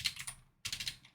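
Quick, close keystrokes on a computer keyboard come in two bursts split by a short pause, clear and alone with no voices.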